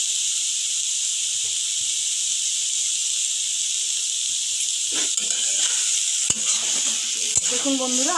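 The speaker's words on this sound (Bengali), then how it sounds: "আগের থেকে পটলটা কিন্তু অনেকটা ভাজা ভাজা হয়ে এসেছে এবং জলটাও কমে গেছে" Pointed gourd paste stir-frying in a pan as its water cooks off, a loud continuous sizzle with spatula scrapes and a couple of sharp knocks toward the end.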